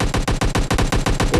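Rapid bursts of SMG fire from a PUBG Lite match rattle out in a loud, steady rhythm of closely spaced shots, about a dozen in a second and a half, with no talk over them.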